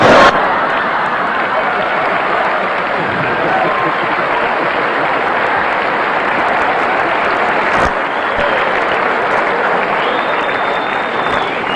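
Studio audience applause on a TV talk show, a dense, sustained wash of clapping from a large crowd, loud and unbroken throughout.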